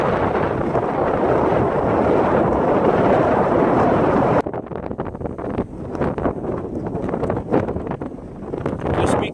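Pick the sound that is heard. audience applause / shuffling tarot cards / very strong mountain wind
very strong mountain wind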